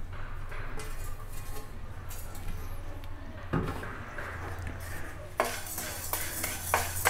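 Whole spices, fennel, cumin, rice, black pepper, fenugreek, coriander and cloves, are dry-roasted in a pan for chicken masala powder, with steady scraping and clinks of a metal spoon stirring against the pan.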